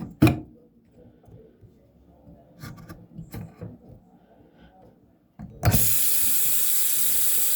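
A tap bursts on and water pours steadily into a sink, a loud continuous rushing hiss after several seconds of faint knocks and handling sounds.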